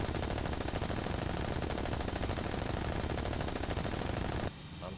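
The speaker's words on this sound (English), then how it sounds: "I'm shooting at him, but I cannot." Continuous rapid machine gun fire from a Bf110 in the combat flight game IL-2 Cliffs of Dover, a dense loud rattling burst that runs for several seconds before cutting off abruptly.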